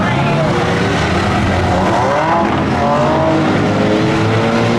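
Race cars roar off the line at the start of a reverse race on an oval track, a loud dense wall of engine noise with rising revs, and an announcer talks over it.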